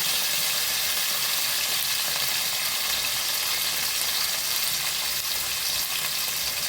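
Shallots, curry leaves and coriander sizzle in hot oil for a Kerala beef roast, a steady, loud, bright frying hiss with no talk over it.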